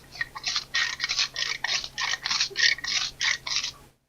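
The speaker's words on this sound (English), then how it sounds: "there is indeed a ratcheting mechanism in there" A Bostitch Twist n Sharp pencil sharpener being twisted, its ratcheting mechanism giving a close, quiet run of about a dozen evenly spaced clicks before falling silent.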